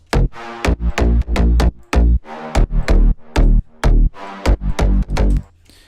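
A fat, deep sidechained sine-wave synth bass pulses in a pumping rhythm, each note ducking sharply then swelling back, about a dozen hits over several seconds, loud and upfront, in a slap house drop.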